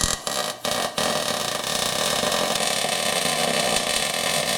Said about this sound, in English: Weld up the other side.